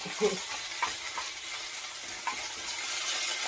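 Garlic fries in a hot pan with ginger while being stirred, giving a soft steady sizzle with a few scraping stir clicks, close and alone.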